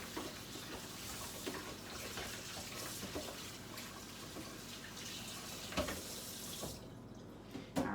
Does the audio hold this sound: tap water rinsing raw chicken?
yes